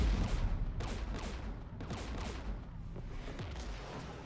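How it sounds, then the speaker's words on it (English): Gunfire in the video game Mass Effect 3 during a battle near a jamming tower, bursts of sharp shots and explosive booms in quick succession, loud and dense with no talking. "We're taking fire."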